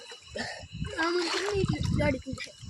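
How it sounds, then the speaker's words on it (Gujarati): Water splashes and sloshes repeatedly from people jumping in while children shout and talk nearby, a busy, close-up playful splashing. "પાણી ઉડો એમ ઠેકડા મારતો નહીં બહુ"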